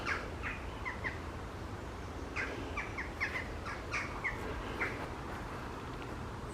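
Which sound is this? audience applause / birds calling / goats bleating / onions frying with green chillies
birds calling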